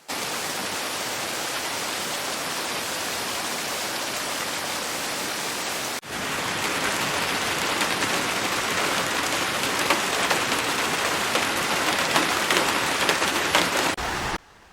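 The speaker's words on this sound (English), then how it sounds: "dramatic footage from Fügen in the Zillertal region captures massive hail turning streets" Heavy hailstorm with torrential rain in Fügen in the Zillertal, Austria, with large hailstones: a dense, steady roar of pounding precipitation fills the whole stretch, briefly dipping near six seconds and then continuing loud until an abrupt stop.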